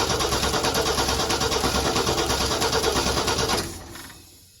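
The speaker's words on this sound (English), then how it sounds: "what I'm doing is cranking it over and looking to see if all the push rods are turning" A Ford 4.9 inline-six fitted with a new Comp 268 cam cranks over on the starter with a steady, fast, even chug, loud and close, then stops abruptly near the end and leaves a fading hum.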